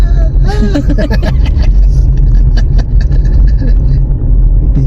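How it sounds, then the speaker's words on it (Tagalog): A car drives along a mountain road near a campground. Its engine rumble rises and holds close and steady, while people talk over it throughout. "May sasakyan na."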